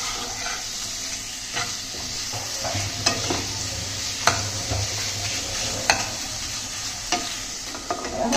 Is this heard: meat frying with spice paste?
yes